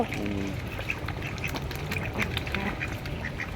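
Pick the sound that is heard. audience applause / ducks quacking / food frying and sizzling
ducks quacking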